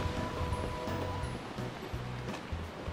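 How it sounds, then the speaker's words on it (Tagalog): Strong wind buffets outdoors at a tulip festival, a continuous rough low rumble and rustle without pause, fairly loud and close. "Malakas lang talaga hangin eh."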